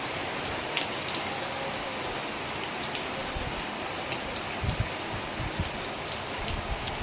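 Steady, dense rain falls and drips into a house in a constant hiss with scattered closer drops and splashes.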